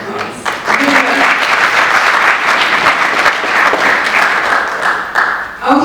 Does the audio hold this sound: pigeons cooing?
no